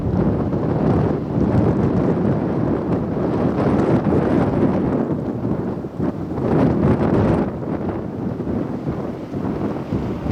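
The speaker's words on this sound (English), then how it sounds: "And it's very windy right now. And I'm sure that all of you can hear that as this video is being recorded." Strong wind buffets the microphone outdoors at Boston Bar, with a fire burning on the hills above North Bend in view: continuous loud, rumbling gusts swelling and easing over ten seconds, with no voices.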